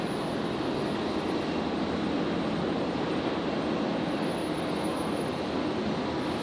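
An airplane departs from runway 32 at Brisbane Airport, its engines a steady, close, broadband roar that stays constant and loud for the whole stretch, with no talking over it.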